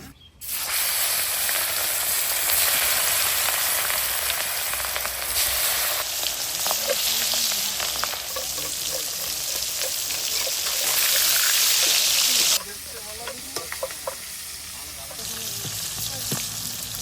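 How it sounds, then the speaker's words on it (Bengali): Fish roe fries in oil in a karahi, a loud, close, steady sizzle that swells and shifts in intensity, with a sudden drop in loudness partway through and softer spitting afterward. "ডিমটা আজকে এমনি ভাজা করে দেবো ওদের।"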